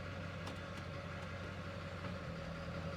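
A 4x4 truck engine runs at a steady, close idle, a continuous low rumble with a constant hum and no clear change in pace.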